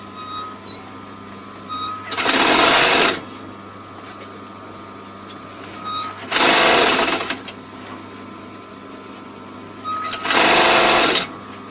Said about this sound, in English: If you have a sewing machine which has got a free arm, it makes things a whole lot easier